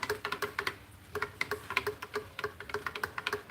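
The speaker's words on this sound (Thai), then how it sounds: "ฝนก็มาตกพอดี" Rain pattering down outdoors on a Thai papaya farm, with irregular, close drips and taps ticking across the whole stretch at a steady moderate level.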